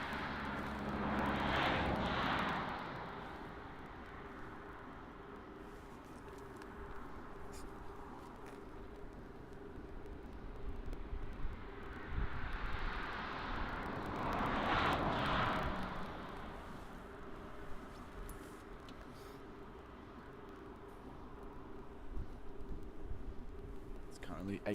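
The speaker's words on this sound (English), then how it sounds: "And just landing there is the Air France A319 coming from Newcastle as AF1559." Air France Airbus A319 airliner landing at Paris CDG airport, engine roar swelling and fading in two broad passes at moderate distance, with a constant background hum and a voice talking over it.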